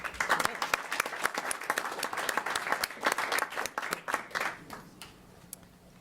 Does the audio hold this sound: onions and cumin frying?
no